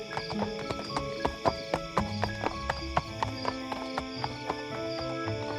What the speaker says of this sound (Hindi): अपने घोड़े पर बैठकर सोनपुर राज्य में घूमने लगा